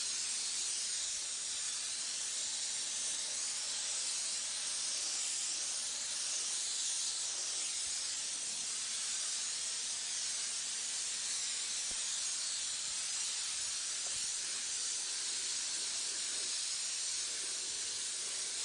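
A steady, continuous hiss of a paint spray gun runs unbroken and fairly loud throughout, with no pauses or voices.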